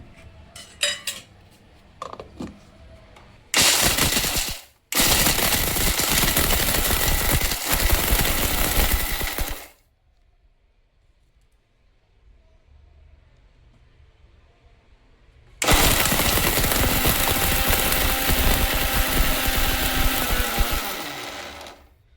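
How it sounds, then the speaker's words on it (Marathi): A mixer grinder whirs through roasted makhana, almonds and poha in loud, sustained bursts: a short run, then a longer grind, a pause of near silence, then another long steady spell, with light clinks before the motor starts. "आणि हे आपल्याला वाटून घ्यायचं आहे मिक्सरला"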